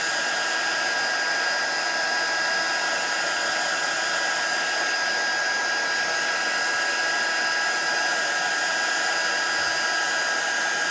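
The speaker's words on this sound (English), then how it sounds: "Husband got me this new heat tool the other day." Electric heat tool blowing steadily while drying a mini craft board, a loud, constant hair-dryer-like roar and hiss running unbroken throughout without speech.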